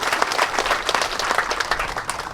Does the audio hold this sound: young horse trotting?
no